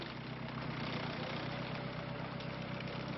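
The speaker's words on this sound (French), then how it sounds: "D'habitude, ce tracteur sert au labour." A tractor engine runs steadily at idle in a rural village after a storm, a constant low mechanical drone with no breaks, moderately loud and alone without talk.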